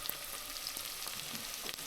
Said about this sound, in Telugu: ఆనియన్స్ వేసేసుకొని కొంచెం కలుపుతూ ఉండాలండి. ఫ్లేమ్ మాత్రం మీడియంలో పెట్టండి.